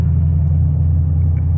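Low, steady road rumble from inside a lifted Toyota Tundra pickup on 37-inch tires cruising along, a constant loud drone with no talking.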